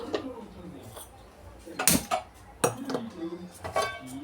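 Metal pan set down on a kitchen stove, several sharp clanks and clinks of cookware against metal at close range, with someone speaking intermittently between the knocks.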